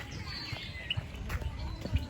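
Bird chirping on a farm, with a few short tweets rising over a low rumble of background noise and handling bumps, heard from a moderate distance.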